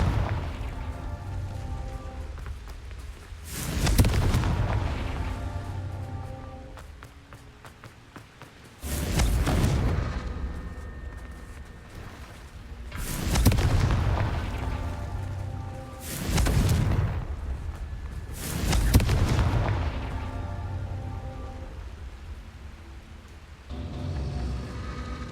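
Repeated Confringo explosion spells in Hogwarts Legacy, five or six loud booming blasts spaced a few seconds apart, each with a rumbling fade over a low game backdrop.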